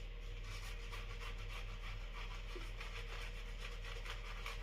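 Rasozero Protettivo shaving cream being worked into a dense, thick lather: steady, close, brisk rubbing that continues without a break over a low, constant hum.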